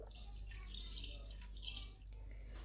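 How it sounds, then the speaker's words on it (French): Milk is poured into brioche bun dough, a soft faint liquid trickle and splash over low background hum, close but quiet, with no talking. "Et là, on va venir ajouter le lait."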